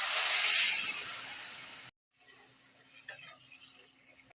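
Ground coriander, turmeric and red chilli powder go into a hot pan while cooking lentils with vegetable stalks, causing a loud sizzling hiss that abruptly cuts out, followed by quieter stirring and faint frying.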